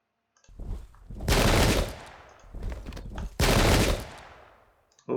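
Musket volleys crack out in Pike and Shot, a 17th-century battle game pitting Irish Jacobite against Russian infantry: two loud, rolling bursts of massed gunfire, each tailing off in ragged crackle.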